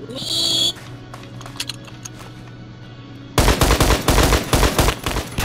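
Video game gunfire erupts as a loud, continuous rapid-fire burst over the last two seconds, preceded by a steady hum, a brief tone and a few faint clicks.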